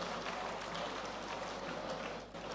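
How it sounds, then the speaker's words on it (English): Applause for a state governor at an engineering conference opening ceremony, a dense, steady wash of clapping from a large crowd that holds for a couple of seconds, then begins to thin. "Can we give him a round of applause"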